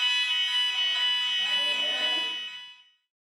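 A fire alarm rings loudly and continuously as a steady electronic tone before cutting off near the end, with no voices over it.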